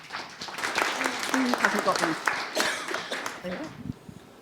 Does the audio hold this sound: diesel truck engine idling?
no